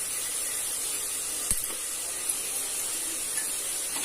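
Onion and spices with chili powder sauté in a pan, giving a steady sizzling hiss with a few faint spoon taps, and no talking.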